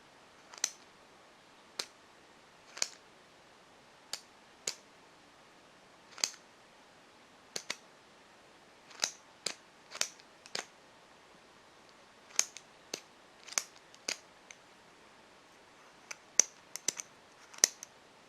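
A rOtring 800 retractable ballpoint pen clicks as its refill is retracted and released, sharp isolated clicks at irregular intervals, close and crisp against near silence, roughly twenty in all.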